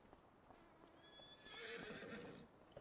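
A horse neighs faintly in the distance in a video game, a brief whinny over soft background rustle and light clopping.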